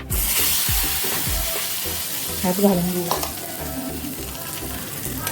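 Hot mustard-seed and cumin tempering is poured into onion chutney and sizzles in a steady, close crackling hiss, while a voice speaks briefly over it.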